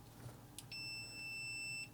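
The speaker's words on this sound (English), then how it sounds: "Hopefully you can hear that beep." A steady electronic beep tone from a multimeter in continuity mode holds for about a second after a couple of faint clicks, close and clear against quiet background.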